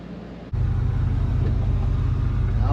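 1976 Chevy Luv truck with a new exhaust system rolling down the road, heard from inside as a steady, loud low engine drone and road rumble that swells in abruptly after a brief quieter moment.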